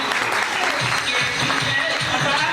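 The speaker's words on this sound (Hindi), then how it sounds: "अपने लिए तालियां बजाओ" Audience clapping together at a leadership training seminar for a direct-selling business, a dense, steady wash of applause filling the whole stretch at close range.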